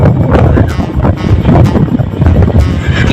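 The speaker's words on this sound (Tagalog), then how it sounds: "Medyo mahangin nga lang." Strong, steady wind buffets the microphone on a seaside motorbike ride along the coast, a loud continuous roar with gusting swells and no break.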